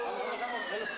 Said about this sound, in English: He stayed calm as a quake siren sounded while describing the shaking inside the studio.